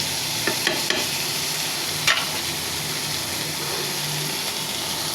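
Broccoli, capsicum and green chili sizzle steadily in a pan while a utensil stirs them, with a few sharp scraping clicks against the pan and no talking.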